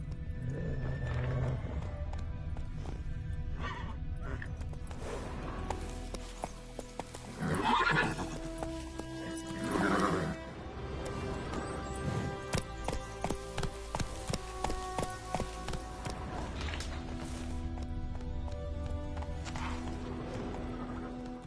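A horse in The Witcher 3 runs with rhythmic hoof clip-clops and lets out loud whinnies and neighs, the galloping steady and close against game ambience for about twenty seconds.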